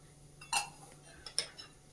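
A spoon stirs modak filling of jaggery, roasted poppy seeds and cardamom powder in a pan, producing a few sharp metallic clinks and scrapes close by, two distinct knocks separated by softer stirring.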